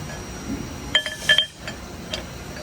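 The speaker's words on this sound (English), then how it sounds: "We're just gonna go ahead and thread the nozzle back into there." Metal parts clink and tap as a shut-off nozzle is threaded onto a Haitian Absolute ZE 1900 III injection molding machine, with a few close sharp clinks over a low machine hum.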